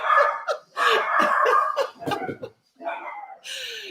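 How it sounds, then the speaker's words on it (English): Dogs at home during a podcast recording break into loud, rough barking and yelping in several close bursts, with brief pauses between them. "Everything is now falling apart here at the end of the podcast with our lovely dogs, Larry and Zoe."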